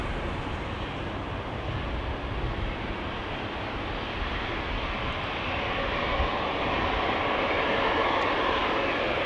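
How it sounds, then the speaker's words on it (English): A KLM passenger jet departs Amsterdam Schiphol Airport, heard as a steady, broad roar of jet engines from a distance that grows slightly louder toward the end, with no voices. "This is KLM flight 1303 to Gdansk,"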